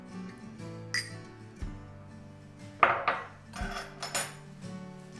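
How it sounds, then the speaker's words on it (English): Potatoes are mashed in a pot inside a Ninja Possible Cooker Pro with a potato masher, giving soft irregular knocks and clinks of metal on the pot, close and fairly quiet, with no talking. "And then go through and just mash up the potatoes."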